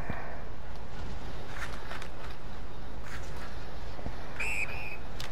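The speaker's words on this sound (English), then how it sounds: "I gotta stop letting them hit me after the whistle there" A referee's whistle sounds in the NHL 21 hockey video game, one short, shrill blast near the end over steady arena noise and skate sounds.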